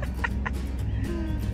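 Short bursts of chicken clucking, a few quick calls close by over a steady low background rumble.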